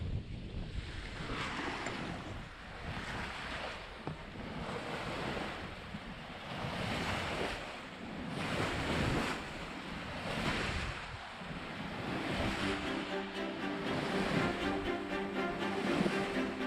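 Waves sloshing past the hull of the sailboat Ocean Melody under sail along England's south coast, with gusty wind buffeting the microphone in steady surges, loud and continuous with no voices.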